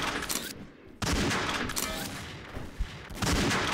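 Gunfire in the XSHOT online shooter during a sniper deathmatch, with several sharp loud shot bursts separated by brief pauses and a busy layer of game noise between them.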